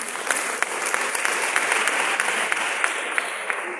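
Audience applause rings out at a Society of Women Accountants of Nigeria event, honoring the Institute of Chartered Accountants; steady dense clapping from a sizable crowd, fairly close and even throughout with a few sharper individual claps.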